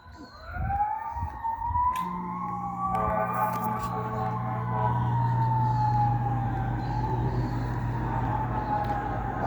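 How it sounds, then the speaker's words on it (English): Emergency sirens wail from a distance, one rising and falling tone sliding slowly, with an air conditioner humming steadily underneath. "the sirens over there"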